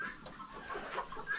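Chickens, healthy hens on a poultry farm, clucking in short, irregular bursts close by, several overlapping calls over a faint background.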